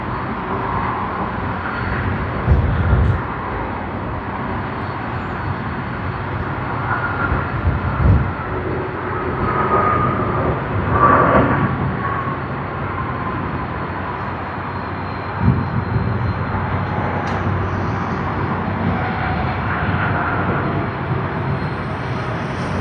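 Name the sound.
aircraft taxiing at Sydney Airport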